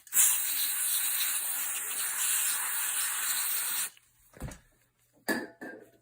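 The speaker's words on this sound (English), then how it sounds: "Let's give these a spray as well." Napier gun oil sprayed onto gun parts: a steady, close aerosol hiss lasting about four seconds, then a couple of short, sharper bursts after a pause.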